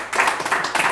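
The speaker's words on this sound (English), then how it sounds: "Give them a round of applause." A brief burst of clapping from a small group on an antiques game show, close and fairly loud, lasting under a second.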